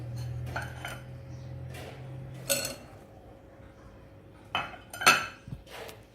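Mango pieces are stirred into pickle spice masala for gunda keri pickle. A spoon clinks and scrapes against the bowl in a few sparse knocks over quiet background hum.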